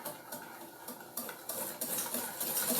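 Melted butter and half a cup of sugar are being stirred together in a bowl, with a steady scraping swish of the utensil and small clinks against the bowl, fairly close and continuous, no talking.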